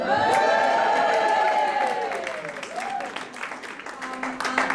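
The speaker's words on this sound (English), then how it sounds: "Let's hear a cheer." A rally crowd of striking teachers cheers and applauds, loud and dense at first with whoops and sustained voices, then easing into scattered clapping and lingering shouts.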